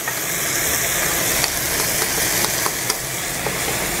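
Fennel seeds sizzle and fry steadily in hot oil in a pan while cooking vegetable kurma, with a dense, even crackle and a few sharper pops, close and loud, no voices.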